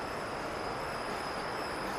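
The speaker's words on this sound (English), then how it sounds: "One train just passed by and it will take a little bit more time." Train rolling past at the Greenway rail station in Chennai, a steady broadband rumble of wheels on track with faint high squealing tones, loud and close throughout, no talk.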